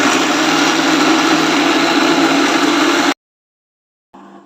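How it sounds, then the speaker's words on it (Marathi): A mixer grinder grinding coriander masala paste with a loud, steady whirring drone for three seconds that stops abruptly, then restarts briefly after a short silence. "आता वाटण आपण छान मिक्सरमध्ये बारीक करून घेऊया।"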